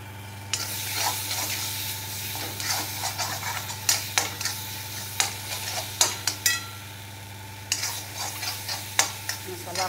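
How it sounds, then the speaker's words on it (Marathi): Masala roasting and frying in a pan, with steady sizzle and repeated scraping stirs of a spoon or spatula against the metal, plus a faint low hum underneath. "मसाला आपला भाजत आला"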